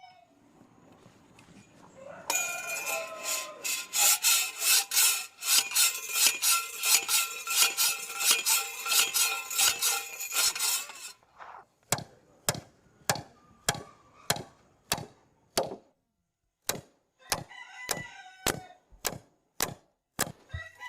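Sharp metallic hammer blows drive a ground anchor down into the earth for a DIY deck, first as a fast ringing run, then as separate heavier strikes at an even rhythm, close and loud, with no voices.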